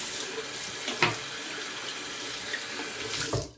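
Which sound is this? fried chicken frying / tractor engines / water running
water running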